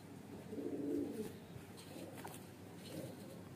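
Low, rolling coos from young highflyer pigeons of the Uday strain, a stronger burst early then softer repeated murmurs, nearby and moderately quiet.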